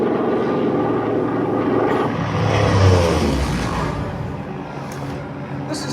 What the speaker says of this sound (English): Aircraft spotted in cloud cover.